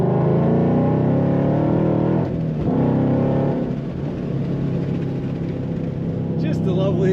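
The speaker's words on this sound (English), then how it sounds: "Just a lovely exhaust sound." Exhaust note from a 2015 Ford Mustang Roushcharged GT coupe while driving, a steady low rumble with a rise in revs partway through, heard from inside the cabin with a window partly down.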